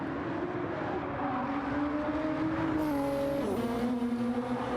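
A GT3 race car's engine drones steadily in a sim racing game on the Nürburgring Nordschleife, a loud continuous tone that climbs and shifts pitch as gears change, with no voices over it.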